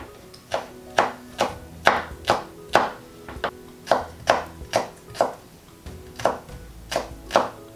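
Steady knife chopping of onions and garlic for a vegan three-bean chilli: about fourteen crisp, evenly spaced strikes on a cutting board, close and clear, with no talking.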